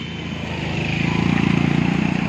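A loud motorcycle ridden with its silencer removed on a mountain pilgrimage road from Gangotri to Kedarnath, its engine rumbling close by with a steady, throbbing exhaust beat that grows stronger.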